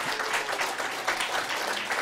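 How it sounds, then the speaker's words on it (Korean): An audience at a church hymn talk claps together, a dense burst of many hands with slight swells in intensity, fairly close and continuous. "와, 박수 한번 칩시다, 우리."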